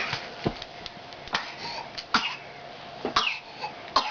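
A toddler coughs repeatedly indoors, a string of short, sharp coughs spaced irregularly at close range over low room noise.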